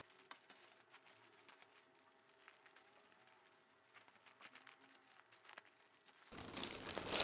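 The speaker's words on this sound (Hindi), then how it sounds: "ये देखिए मैंने इस पॉलीथीन को कट कर लिया है।" A plastic polythene vegetable bag being cut along its side and handled, giving quiet, continuous crinkling and rustling with a louder burst of crumpling near the end.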